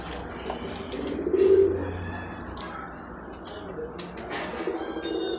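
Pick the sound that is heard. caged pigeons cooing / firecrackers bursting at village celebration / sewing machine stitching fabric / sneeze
caged pigeons cooing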